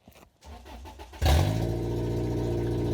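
A Subaru engine with no exhaust system cranks, catches with a sharp loud burst and settles into a raw, harsh, steady idle.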